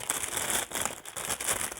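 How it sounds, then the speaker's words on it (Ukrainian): Close-up crinkling of the plastic packaging of perfume samples, continuous rustles with brief pauses, fairly loud and without any voices. "Шарудіння, шарудіння, шарудіння."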